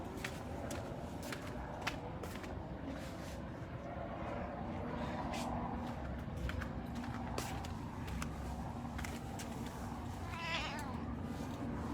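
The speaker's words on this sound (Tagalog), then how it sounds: "Meron nga pala kaming pusa." A former feral cat meows indoors, a few faint cries rising over a steady low background hum with scattered soft clicks and knocks.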